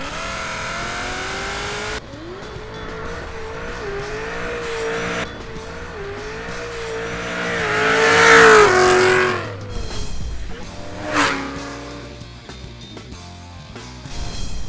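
A procharged 2017 Holden Commodore engine revs and climbs through gears, whining and roaring up close, with a tire squeal and sharp throttle bursts.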